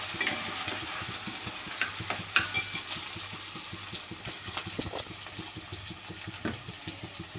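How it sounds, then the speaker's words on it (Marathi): Green chillies sauté in hot oil for sabudana khichdi, a low continuous sizzle with intermittent spatula scrapes and small crackles, close and moderately quiet. "हिरवी मिरची छान तेलामध्ये परतून घ्यायची।"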